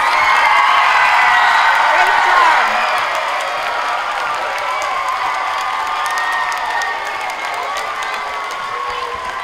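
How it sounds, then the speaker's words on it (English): A school audience cheers and claps for kindergartners at an elementary school Thanksgiving program, a loud, sustained wash of applause, whoops and children's shouts that eases slightly after a couple of seconds. "Let's have a big round of applause for our fabulous kindergartners."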